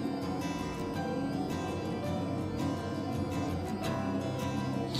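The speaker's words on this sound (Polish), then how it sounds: "Jak widzicie, to jest dźwięk muzyki fali nośnej." Music carried on the carrier wave of a homemade AM transmitter, heard as continuous, slightly hissy broadcast-style music at a steady moderate level with no talking.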